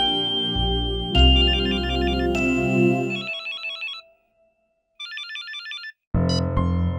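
Electronic phone ringtone rings indoors in a home, a repeating melodic trill that plays in bursts, pauses into brief silence, then sounds again and goes unanswered, with no voices over it.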